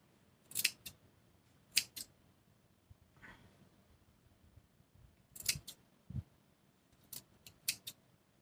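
Scissors snipping folded fabric for covered buttons, a few sharp cuts in small clusters separated by quiet pauses, close and fairly crisp.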